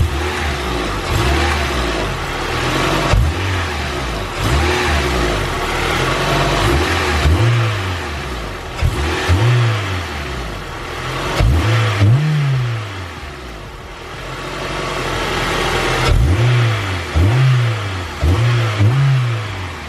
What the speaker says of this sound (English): Let's see if the engine moves when I accelerate.